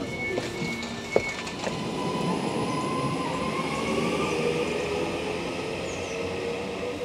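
A passenger train rolls toward Lostock station near Bolton, heard from inside as a steady loud rumble of wheels on rails, with a few faint squeals and a sharp knock early on.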